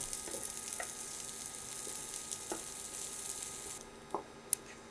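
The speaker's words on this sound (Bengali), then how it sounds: "এখানে অর্ধেকের বেশি দিয়ে দিলাম, এটা ভেজে নেব।" Small local onions fry in a pan with a constant bright sizzle, punctuated by a few soft stirring scrapes and a sharp clink near the end, close and fairly quiet.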